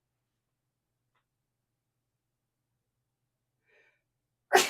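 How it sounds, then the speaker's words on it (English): Near silence, then a faint intake of breath, then one sudden, loud sneeze bursts out close to the microphone right at the end. "hold on, I feel like I'm gonna sneeze."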